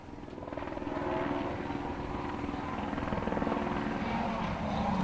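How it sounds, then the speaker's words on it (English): A helicopter hovers over a rally stage at the Circuit of Ireland Rally, its rotor throbbing steadily at moderate distance and filling the background. "Hear Derek McGarty's helicopter in the background."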